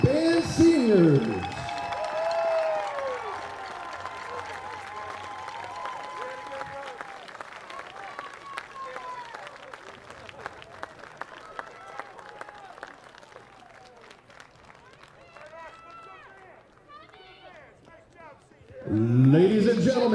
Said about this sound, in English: How about another big round of applause for our